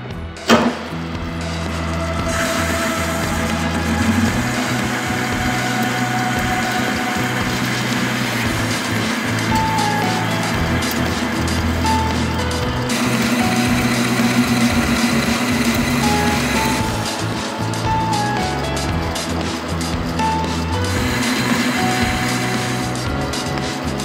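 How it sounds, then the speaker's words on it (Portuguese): A metal lathe runs steadily while machining a magnetic flywheel puller for a quad bike engine, a loud continuous mechanical drone with tonal hum and shifting cutting noise throughout, no voices. "Portanto, eu vou executar este saco no torno."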